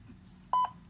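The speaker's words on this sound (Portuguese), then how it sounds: "Deu o bip." An XPE 1013 BIO fingerprint reader gives two short, bright electronic beeps in quick succession, close and clear over quiet room tone.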